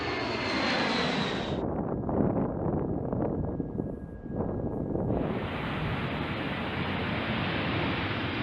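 Jet engines of a B-52 bomber roar loudly and continuously, a broad rushing thunder that dips briefly in the middle before surging back.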